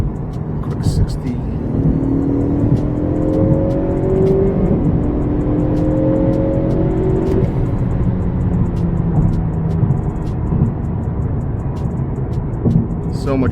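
Tuned Honda Accord 2.0t on E30 with a JB4 map and over 6 psi boost pulling hard in-car, a loud engine drone rising in pitch through gear changes while people talk over it.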